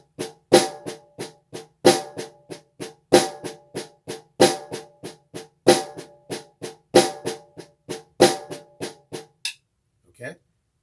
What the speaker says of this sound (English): A paradiddle looks and sounds like this.